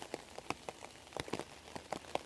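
Rain falling outdoors, with faint scattered drops tapping a surface in irregular soft pats over a quiet background.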